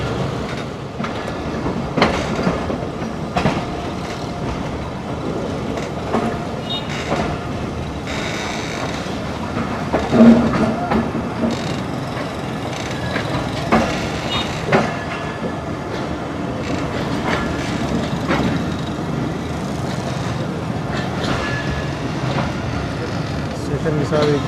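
A Pakistan Railways train rolls along, heard from inside, with a continuous rumble and scattered clickety-clack wheel beats over about twenty-five seconds while someone talks over it.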